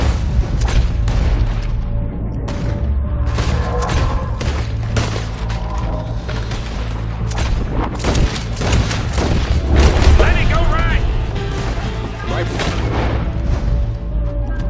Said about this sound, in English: We're shooting our way out of here!